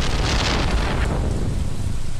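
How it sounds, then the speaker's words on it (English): Loud, steady rain hisses through a Stardew Valley storm, with a deep low rumble of thunder rolling beneath it. "it's going to be raining"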